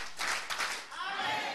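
Members of a church congregation clap a quick series of three bursts together, followed by a softer tail of scattered claps and murmuring voices.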